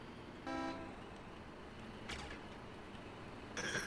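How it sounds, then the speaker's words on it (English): Vehicle horns honking in the war video game Foxhole, three short toots spaced about a second and a half apart, fairly faint and distant over a low background rumble. "I hear them honking."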